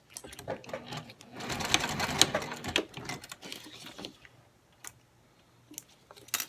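A sewing machine stitches fabric pieces for a gift bow. It runs in a loud, rapid close-up burst for about three seconds, then falls to a few faint ticks and handling clicks.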